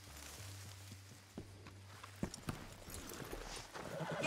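Horse hooves clip-clopping at a walk in the Red Dead Redemption 2 game world, a few soft, irregular thuds over a low hum, with a brief burst of clattering in the middle.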